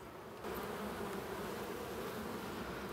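Honey bees hum around traditional wooden hives, a dense continuous buzz that swells slightly louder after a moment and stays steady throughout, with no voices.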